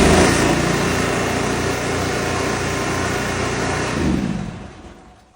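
A Wash Pro engine, cold in 34-degree weather and not run all day, starts by remote and runs with a loud steady buzzing drone for about four seconds before being shut off and fading out.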